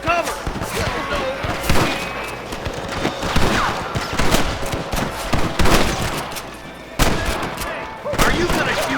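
Rapid gunfire in a Red Dead Redemption shootout with rustlers: dense, irregular volleys of close rifle and pistol shots, mixed with hoofbeats of horses and scattered shouting voices.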